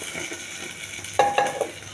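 Spices for dal tempering sizzle in hot oil, a soft steady crackle that jumps into a few sharp hissing bursts near the end as more goes into the pan.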